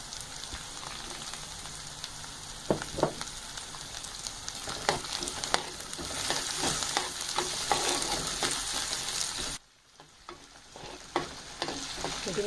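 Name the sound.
thinly sliced potato pieces frying in a pan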